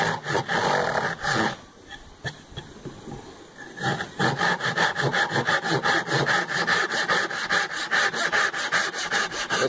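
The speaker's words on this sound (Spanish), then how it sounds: "es mucho más simple cortar el roble que cortar el pino" A Japanese pull saw cuts through hard oak, steady rasping strokes repeating in a fast even rhythm, close and loud, with a brief pause in the middle before sawing resumes.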